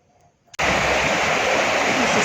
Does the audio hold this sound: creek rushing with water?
yes